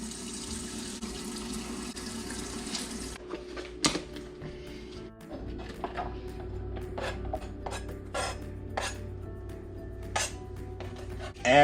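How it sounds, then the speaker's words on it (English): Water runs from a tap into a container of cooked noodles for a prison-style meal, a steady splashing stream with occasional clinks and taps of utensils and dishes. "Add just enough water to cover the noodles."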